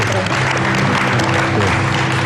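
Audience applause for Indonesia's Minister of Research, Technology and Higher Education, M. Nasir, in a TVRI studio talk-show setting. The clapping is dense and steady for a couple of seconds, with a low tonal hum running underneath.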